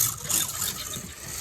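A small Revo Slot slot car motor running with a steady buzzing, grinding rattle like a coffee grinder, close and fairly quiet.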